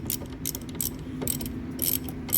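Ratchet clicking in quick bursts while a 15 mm nut is tightened on a front strut of a 2017–2019 Chevrolet Volt, close and fairly loud, with short pauses between runs of clicks and no talk.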